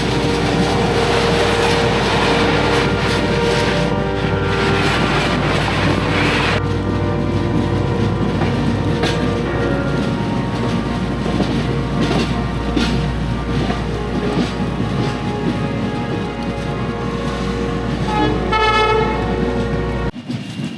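A loud passenger train bound for Tirupati, running after a long delay: a continuous close rumble and rattle of the cars throughout, with horn toots sounding over the din before it cuts off abruptly.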